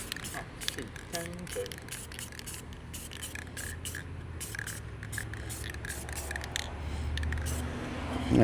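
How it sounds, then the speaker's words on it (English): Spray paint hisses from an aerosol can onto a car part, with scraping and rubbing of wiping mixed in, a steady close noise with a faint voice briefly underneath. "I'll wipe that and spray some paint on it"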